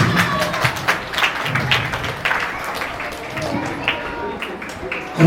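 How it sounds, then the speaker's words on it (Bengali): An audience at an Independence Day school event claps loudly, a dense, steady patter of many hands that carries on throughout. "জোরে হাততালি"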